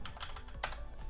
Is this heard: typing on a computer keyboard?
yes